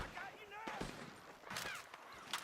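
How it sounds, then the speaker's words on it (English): Gunfire from a barn in Red Dead Redemption 2 cracks out as a few sharp, separated shots spread over a couple of seconds, moderately loud amid a busy game soundscape. "The gunshots are coming from that barn."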